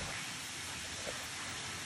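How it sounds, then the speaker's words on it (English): Steady afternoon rainstorm pouring down, a dense, even hiss of rain falling on surfaces close by, continuous with no breaks and no voices. "we're having the nicest rainstorm"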